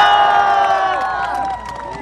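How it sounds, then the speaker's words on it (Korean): At a campaign rally for Lee Jae-myung in Mokpo, a large crowd cheers loudly with long shouted voices and clapping. The cheering fades slightly toward the end. "박수 한번 치세요."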